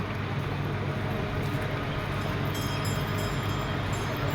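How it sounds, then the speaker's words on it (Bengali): Sundarban Express train from Dhaka pulling into Faridpur railway station, a steady loud low rumble of rail cars rolling past close by, continuous throughout with no horn. "এই সুন্দরবন এক্সপ্রেস ঢাকা থেকে আসলো"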